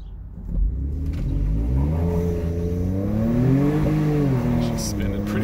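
A 2014 Ford F150 Tremor pulls away from a stop with its tires spinning, its engine rising in a loud, steady rev that climbs and wavers for several seconds, close and dominant.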